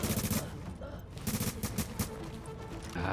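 Rapid bursts of gunfire in the video game The Division crackle throughout, dense volleys with brief lulls, loud and close like an intense firefight.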